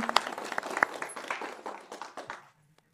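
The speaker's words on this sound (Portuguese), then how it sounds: "Então, eu realmente quero parabenizar e dar uma grande salva de palmas para a Joana e para todos vocês por terem vindo aqui." Small audience at a religious talk breaks into light, scattered applause, moderately near, thinning out and fading to silence at the end.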